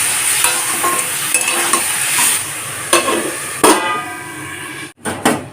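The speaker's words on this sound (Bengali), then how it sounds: "লাউয়ের মধ্যে দিয়ে দিয়েছি নুন আর হলুদ আবার ভালো করে নাড়াচাড়া করে নেব" Bottle gourd with salt and turmeric is stirred in a pan over a high flame: a loud continuous sizzle broken by repeated scraping strokes, ending with a short pause and a couple of sharp clatters.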